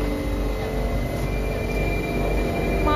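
A metro train in Bursa rumbles steadily at a crowded station, a continuous loud roar of wheels and motors with a faint high tone above.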